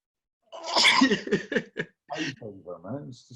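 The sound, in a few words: sneeze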